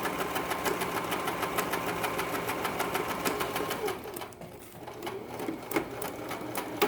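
A sewing machine stitches a crazy quilt square with a fast, even mechanical patter that pauses briefly near the end before starting again, close and moderately loud, with no voices.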